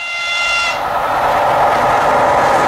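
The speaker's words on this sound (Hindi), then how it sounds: "ये है रशिया की ट्रेन्स" Russian trains run on rails with a steady, loud rolling roar, opening with a brief high whistle tone that fades as the rumble continues.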